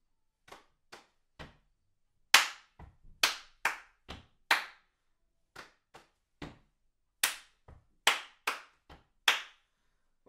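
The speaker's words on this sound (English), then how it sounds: "The next bit, you brush your thighs, you go stomp, clap, stomp, clap, clap, stomp, clap." Body percussion pattern of foot stomps and hand claps, sharp separate hits in an uneven rhythm with short pauses between groups, close and clear, with no talk.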